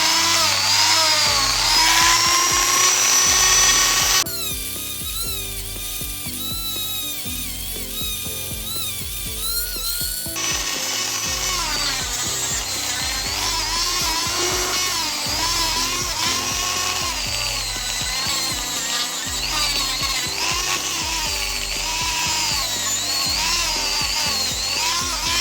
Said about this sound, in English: So now it's time to do some polish on the pendant